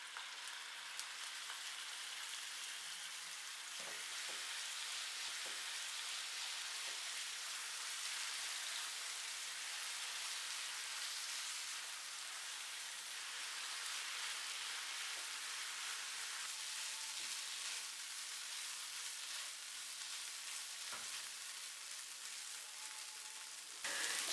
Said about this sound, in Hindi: अब इसमें मैरिनेट की हुई चिकन ऐड करेंगे और इसको 5 से 7 मिनट पकाएंगे।